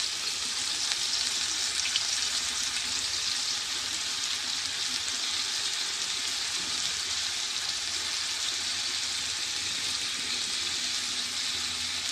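Water is poured onto cumin paste in a hot cooking pan and sizzles loudly, with a steady, dense frying hiss that continues unbroken throughout and no voices.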